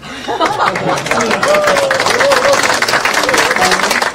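Audience applause and cheering fill a Korean party's second-anniversary ceremony, a dense steady roar of clapping with crowd chatter and a voice talking over it throughout.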